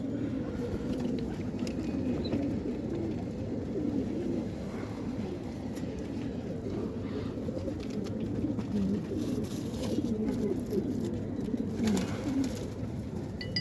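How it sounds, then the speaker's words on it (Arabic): Pigeons at a loft in Imbaba at night coo and scuffle steadily at close range, a continuous low murmur of calls and wing and body movement with no speech. "بصوا الحمام بيضربوا كمان"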